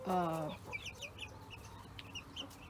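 Silkie chickens cluck and call, starting with one loud nearby squawk followed by a run of softer, scattered clucks and chirps from the flock over a low outdoor background.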